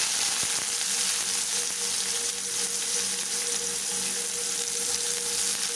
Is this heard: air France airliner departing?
no